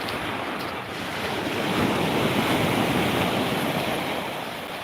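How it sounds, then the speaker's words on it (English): Waves wash continuously against a seashore, a broad steady rushing surf with some wind noise on the microphone and no voices. "Just lapping the shore."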